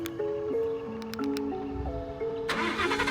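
A car on a lowrider Sunday in Lawndale, California is started remotely from its key fob: steady tonal chimes and soft noises run for a couple of seconds, then the engine cranks and catches with a sudden, loud broadband roar near the end.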